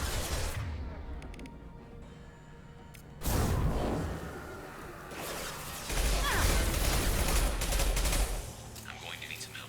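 Mass Effect 2 firefight: bursts of gunfire and heavy impacts come in waves, loud and dense, with mechanical clanks and whooshes between volleys. A voice speaks during the action.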